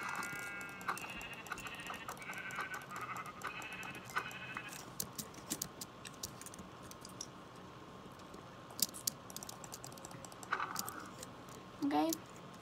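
Sheep in the Minecraft video game bleat in a few short, moderately loud calls near the start, set against steady game background sound, with a player talking in the mix.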